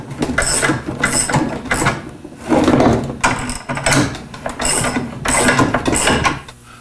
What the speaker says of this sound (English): To make things go a little easier, you can use these spring compressors.